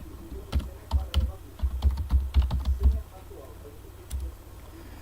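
Keys tapped on a computer keyboard while a password is entered for remote SSH access, a quick irregular burst of clicks for about three seconds, then a pause and one more short tap, close and fairly quiet.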